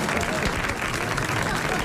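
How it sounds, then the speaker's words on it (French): A studio audience on a 1981 French radio comedy show breaks into applause, a dense wash of clapping and crowd noise held for a brief moment. "Et tout de suite, vos applaudissements."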